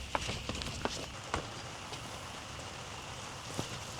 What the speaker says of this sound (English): Shit, it's raining. Run,